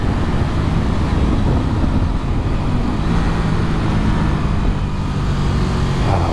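An Aprilia RS660 mid-sized twin-cylinder motorcycle ridden on a road in cold weather, heard as a loud, continuous rush of wind over a low engine drone.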